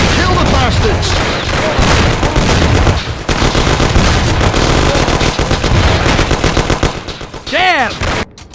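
An intense firefight in the video game Mafia: The City of Lost Heaven, with rapid bursts of machine-gun and rifle fire, loud and dense, and brief shouted voices mixed in near the end.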